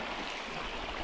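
A river rushes continuously at close range, a loud, even broadband wash of flowing water with no break and no voices.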